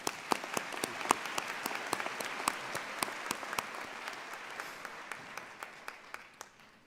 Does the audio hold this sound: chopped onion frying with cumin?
no